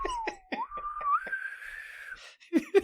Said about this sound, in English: You can't whistle very well.